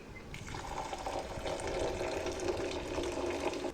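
Ration rice is washed in water, with a steady sloshing and swishing of grains and liquid close by, continuous and even throughout.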